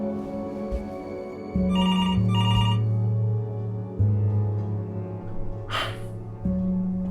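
An old-style telephone bell rings in the video game Before Your Eyes, two short trilling bursts over a low droning tone, followed by a sharp breathy gasp.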